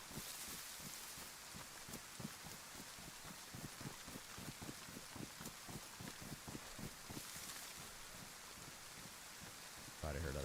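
Steady rain in the DayZ video game, a dense even hiss with irregular drop-like ticks running throughout, with a brief louder burst near the end.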